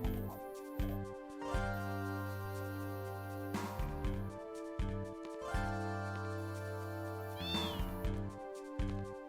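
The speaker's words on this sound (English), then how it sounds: "At least the cat's still here." A cat meows in Final Fantasy VIII: a short, rising mew near the end, laid over steady, looping in-game music that carries on throughout.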